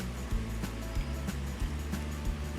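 Peanuts fry in hot oil, a dense continuous sizzle and crackle with low bubbling and a few soft knocks, steady and close, with no voices.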